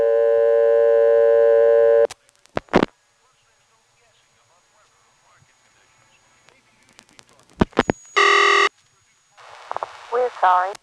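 Telephone reorder tone on a 1977 GTE step-by-step payphone line in Williamston, North Carolina: a loud steady buzzing tone that cuts off abruptly, then sparse clicks and faint radio bleed, a short loud tone burst, and a recorded voice starting near the end.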